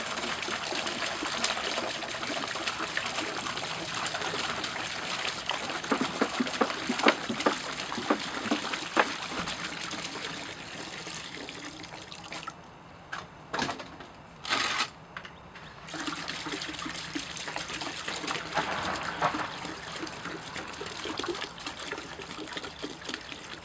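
Water pours steadily into a bucket while mixing a diluted soap solution for aircrete foam, a continuous splashing trickle lasting over twenty seconds with a few brief pauses and bursts near the middle.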